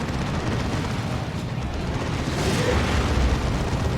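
Heavy plasma cannon blast on a Stormblade tank in the strategy game Dawn of War 2, a dense, rumbling, explosive roar that swells slightly toward the end amid continuous battle noise.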